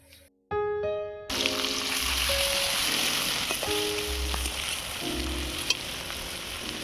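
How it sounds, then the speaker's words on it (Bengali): Chopped onion hits hot oil with a sudden loud sizzle after a brief quiet, then frying steadily and closely with soft crackles and occasional stirring clinks. "তেল গরম হয়ে গেছে। এবার আমি দিয়ে দেবো পেঁয়াজ কুচি"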